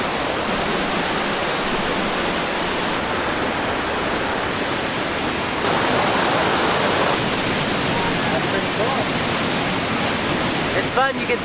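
A small, fast-flowing waterfall on Japan's Izu Peninsula pours in a steady, dense broadband rush close by, continuous throughout, with a slight swell midway and a brief clatter near the end.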